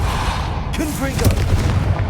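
A Confringo blasting spell cast in the video game Hogwarts Legacy against a pillar blocking a path, a deep booming blast with rumbling debris over steady background game sound.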